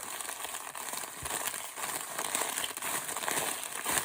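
A paper bag crinkles and rustles steadily up close, a continuous crisp crackling with no talking.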